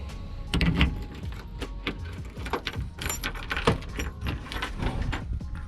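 A bunch of car keys jangles and clinks in repeated bursts near the trunk of a Foxbody coupe, close and moderately loud, with faint shuffling and handling noises between them.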